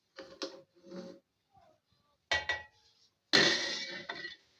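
A metal lid clanks onto a pot of groundnut soup on the stove, several sharp clinks and knocks close by, with quiet gaps between them and a longer rattling clatter near the end.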